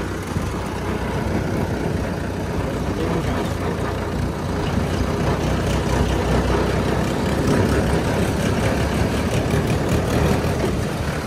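A Mahindra 595 Turbo tractor fitted with a 9-tine tiller runs with a loud, continuous, rumbling engine drone that holds steady throughout at close range.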